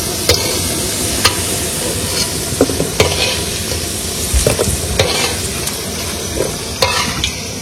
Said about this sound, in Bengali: আলু ভাজা হয়ে গেছে, এবার আলুটাকে নামাই নেবো।